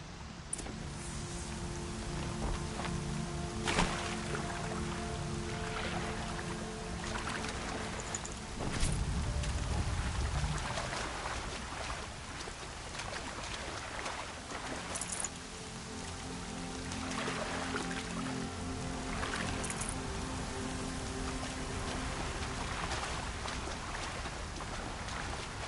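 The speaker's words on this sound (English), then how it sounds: "Air's heavy with rain." Steady rain falls in the video game Horizon Zero Dawn, a continuous broadband hiss with scattered patters and drips, even and fairly soft throughout with no talk.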